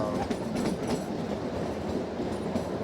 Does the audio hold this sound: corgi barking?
no